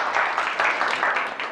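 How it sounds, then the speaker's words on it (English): Brief, steady clapping from a conference audience welcoming a speaker to the stage, a moderate wash of many hands lasting under two seconds. "So give a round of applause to Lee Copeland."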